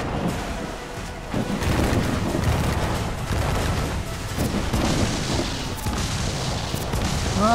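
Ship cannon fire in the video game Assassin's Creed: Black Flag booms in rapid, overlapping volleys, a continuous barrage of heavy blasts with no voices.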